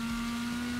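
A car's engine in a driving video game, which the player likens to a rotary, holds a steady, buzzing high-revving note for under a second at moderate loudness.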